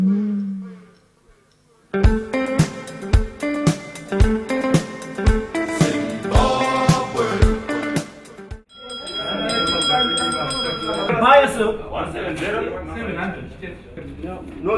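Bell ringing at the Zimbabwe Stock Exchange, a rapid series of bright metallic strikes that then give way to a denser ringing wash, with talking present.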